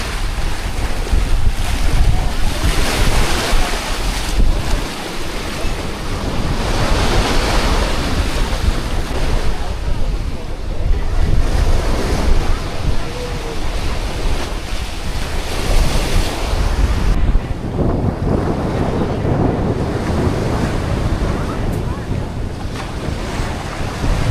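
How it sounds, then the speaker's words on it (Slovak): Sea waves roll onto Tria Petra beach in Crete, a loud continuous surf wash heavily buffeted by wind noise on the microphone. "Takto je pláž, more."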